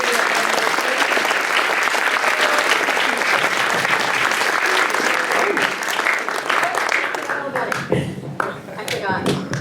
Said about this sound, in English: Let's give Senator Murkowski a big round of applause.